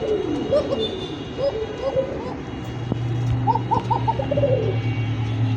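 A pair of Lahori pigeons coo in repeated soft, rounded phrases, with other birds calling nearby and a steady low hum in the background.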